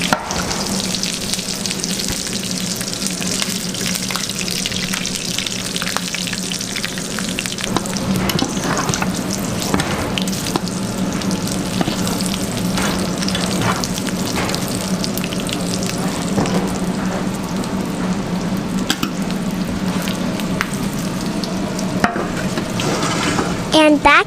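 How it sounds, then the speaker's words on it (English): A double cheese pizza sizzles and crackles steadily while baking in a hot oven, a continuous hissing fry texture with a low hum underneath, fairly loud and uninterrupted for the whole stretch. "And here it goes into the oven. Oh God! Can you hear the sizzle?"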